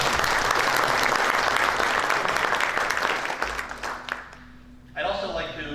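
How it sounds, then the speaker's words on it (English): A round of applause from a breakfast audience thanking Stockton University at a regional leadership event, full and steady clapping that tapers off, followed by a voice speaking. "We have a round of applause for Stockton."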